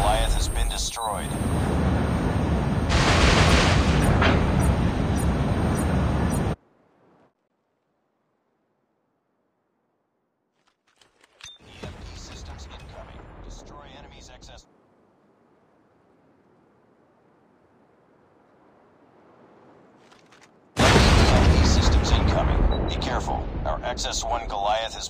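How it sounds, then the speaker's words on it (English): Heavy explosions batter the XS1 Goliath mech in Call of Duty Mobile: loud booming blasts and roaring fire in bursts, broken by silent gaps and quieter rumbling stretches, with a game voice announcing events. "XS1 Goliath has been destroyed."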